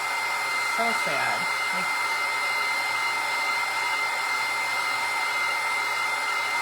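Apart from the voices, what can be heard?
hair dryer heating plastic spoons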